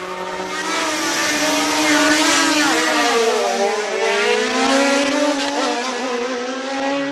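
A race car on its run at the Speed Classic Cape Town event roars past loudly, its engine note rising and shifting with gear changes, sustained and close, with a hint of tire squeal and no talk.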